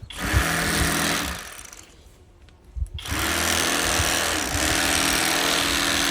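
An electric knife cuts a catfish fillet with a harsh, close buzzing whine that runs steadily, drops away for about a second, then starts again and continues loudly to the end.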